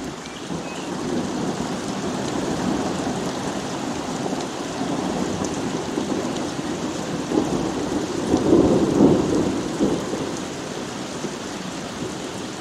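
Steady rain pattering on a window fills the whole stretch, with low rolling thunder rumbling beneath it and a louder thunder swell building around the middle before easing off.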